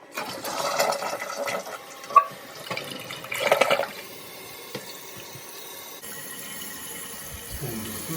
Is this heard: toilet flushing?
yes